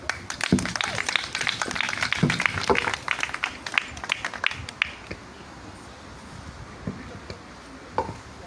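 A crowd applauds a returning king with dense clapping and scattered cheers that are loud at first, then thin out to a few isolated claps, with voices mixed in.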